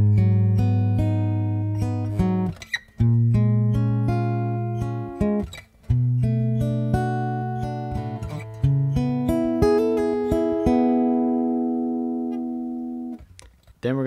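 Acoustic guitar picks a full lesson line of plucked chord notes with a hammer-on, steady and close, ringing clearly with brief pauses and no talking over it.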